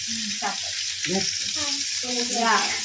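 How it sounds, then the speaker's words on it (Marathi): Almonds fry and roast in a pan of oil for a paneer masala, giving a steady bright sizzle throughout, with a low voice murmuring underneath. "आता तळून भाजून घेतो बदाम टाकून"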